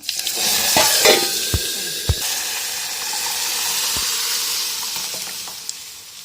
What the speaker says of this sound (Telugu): ఇప్పుడు నేను తాలింపు వేసుకుంటున్నాను